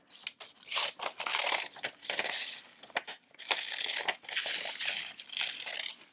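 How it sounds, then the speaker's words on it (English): Scissors cut out a paper pizza picture, with repeated close crinkling snips and rustling paper in bursts, loud and near with brief pauses between cuts. "I'm going to cut out the pizza."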